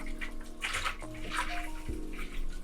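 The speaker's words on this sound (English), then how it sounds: "Let's fill up our watering cans." Tap water runs into watering cans in a steady splashing stream, close and fairly quiet, with no talk.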